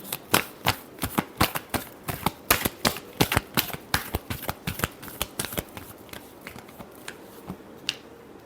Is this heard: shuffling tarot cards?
yes